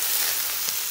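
An egg frying in a hot wok, a steady bright sizzle with a faint crackle, close and continuous for a brief moment with no talk.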